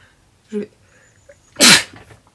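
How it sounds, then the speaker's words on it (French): One sharp, close human sneeze bursts out after a soft catch of breath, in an otherwise quiet room. "Désolée pour cet éternuement, j'aurais peut-être coupé."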